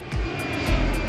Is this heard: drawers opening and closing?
no